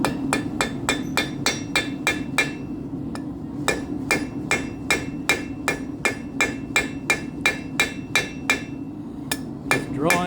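A hand hammer forges hot steel, drawing it out with a steady run of sharp, ringing strikes. About two blows land each second, close and loud, with one brief pause early on and no voices.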